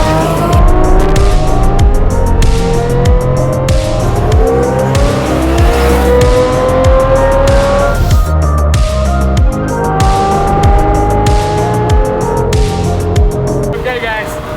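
A Lamborghini Murcielago Roadster with a gated manual gearbox is driven at night, its loud engine revving and climbing through gears in repeated pulls, with tire squeal and a continuous, close engine drone throughout.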